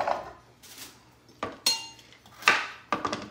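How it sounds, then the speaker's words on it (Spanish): Knife chopping carrot on a cutting board in a home kitchen while making rice soup with ground beef: several sharp, close knocks in an uneven rhythm with quiet pauses between, each with a bright clink. "Aquí estoy picando la zanahoria"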